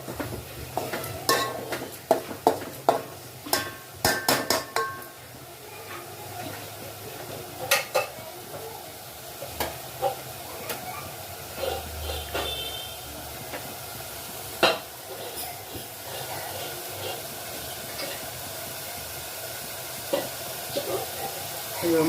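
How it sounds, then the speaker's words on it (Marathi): Spice masala fries in oil in a pan for a pomfret curry, giving a low steady sizzle beneath frequent sharp clinks and scrapes of a spoon against the pan, close and busy at first, then calmer. "मसाला आपला चांगला भाजत आलेला आहे"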